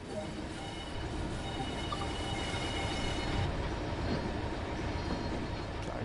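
A locomotive in a train simulator video game rumbles steadily with rolling rail noise and faint wheel squeal, a continuous mechanical drone with no talk.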